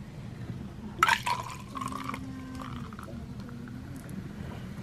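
Sparkling white grape juice is poured from a bottle into glasses, a brief burst of fizzing splash followed by a softer trickling fill, close and moderately loud over a low room hum.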